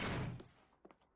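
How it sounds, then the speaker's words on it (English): A wooden crate breaks open in the video game Sunset Overdrive with one heavy, close thud that fades quickly, followed by a couple of faint knocks. "Break open that crate."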